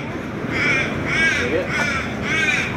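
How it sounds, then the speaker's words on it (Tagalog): Crows caw near a market in Adelaide, Australia, several loud, harsh calls repeating in a rough rhythm about every second, close by over a murmur of outdoor background noise. "Nagkalat yung mga ibon dito yun"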